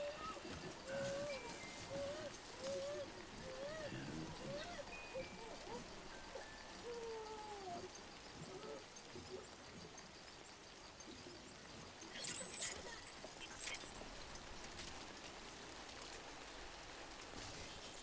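Timefall rain in Death Stranding, a soft, steady hiss of rainfall throughout, with faint high chirps and a brief louder burst partway through.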